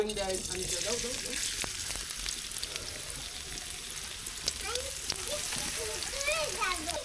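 Chopped onions frying in a pan for a broken-rice khichuri. A soft, steady sizzle and crackle continues throughout, with a faint voice murmuring in the background.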